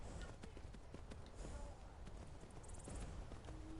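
Horse hooves clip-clop on the ground in the video game Skyrim, a quiet, quick, uneven patter of hoofbeats under faint game ambience.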